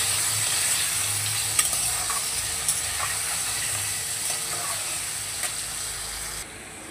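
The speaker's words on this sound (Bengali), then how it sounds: "এবার আলুটাকে একটু হালকা করে ভেজে নেব" Potatoes fry lightly with salt and turmeric in a pan, making a steady hiss and sizzle with a few sharp clicks of stirring. The sound fades toward the end.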